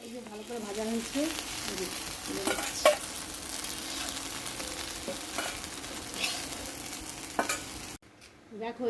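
Marinated food fries in oil with a constant sizzle while a utensil stirs and scrapes against the pan. A voice is heard briefly at the start, and the frying noise drops out just before the end.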